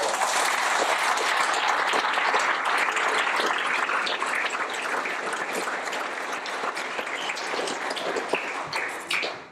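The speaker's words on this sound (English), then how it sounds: "If we can just give the Art Centre a clap." A theatre audience at the Nenagh Arts Centre breaks into sustained applause after a performance, a dense, even wash of many hands clapping that holds steady for several seconds before trailing off.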